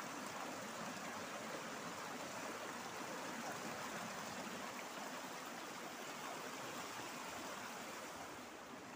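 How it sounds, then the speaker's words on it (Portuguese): Stream water flowing into a full pool at a riverside spot, a steady broadband rush and gurgle, even and continuous, heard alone. "Esse poço aqui, ó. Super cheio, ó. Muita água."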